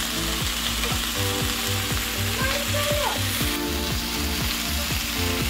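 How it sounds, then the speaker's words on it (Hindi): Fish tikka squares sizzle in a pan with a continuous close hiss, while a soft music track runs beneath the frying. "इस तरह से हमें फ्राई करते हुए 1 मिनट हो गया है।"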